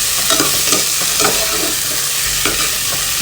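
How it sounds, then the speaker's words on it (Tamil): Onions stir and fry in coconut oil in a pan for chicken biryani, giving a steady, close sizzle with a few scraping stirs and no talk. "நல்லா உள்ளியை நல்லா கிண்டி விடுங்க."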